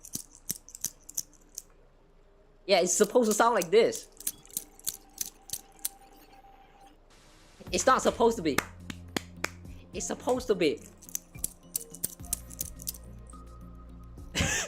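Sharp hand claps, a few single claps early on followed by a couple of short bursts of quick claps, mixed with someone talking and laughing in between.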